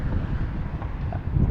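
Steady, heavy wind buffeting the microphone at Georgia's Stonehenge, a constant low rumble with gusty roar and no voices, loud and close throughout.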